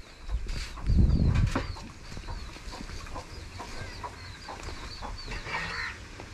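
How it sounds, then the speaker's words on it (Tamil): Chickens cluck and call around a small rural village home, with scattered clucks and short calls rising over a low outdoor background, including a louder burst near the start. "கோழி"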